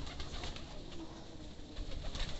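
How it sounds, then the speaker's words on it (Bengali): Pigeons coo softly while being fed, a low, faint murmur of calls under quiet, steady background noise. "এই যে কবুতর সব নিয়ে খাবার দেওয়া হয়েছে"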